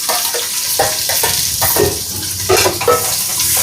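Onions frying in a pan with steady broadband sizzle and intermittent stirring scrapes and clinks, close and continuous with no talking.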